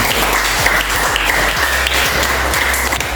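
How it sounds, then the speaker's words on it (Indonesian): A classroom audience gives a short burst of dense, continuous applause, many hands clapping together at close range with no talking over it. "sekali lagi mari kita berikan aplaus yang paling"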